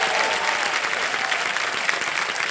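Steady, dense applause from a TV quiz show studio audience on Kaun Banega Crorepati, loud and unbroken throughout, with a faint voice beneath.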